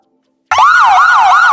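After half a second of silence, a siren sound effect for a video edit bursts in at full loudness, wailing up and down in rapid repeated sweeps, close and alone.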